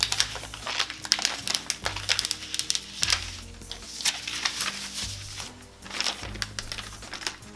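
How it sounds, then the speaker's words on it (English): Black vinyl lettering has its transfer tape pulled up from a corner, giving a run of crinkly, crackling peels and small snaps in irregular bursts, fairly close and alone. "I'm just gonna start to pull up the transfer tape in a corner."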